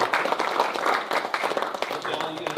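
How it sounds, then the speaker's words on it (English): A round of applause at a council meeting, a short burst of hands clapping together in a room, fairly loud and dense for a couple of seconds. "Again, another round of applause."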